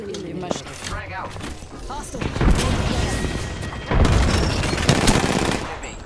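A frag grenade goes off in Apex Legends, with heavy bursts of explosion and gunfire layered into a dense, loud stretch of combat noise, and voices chatter over the fighting.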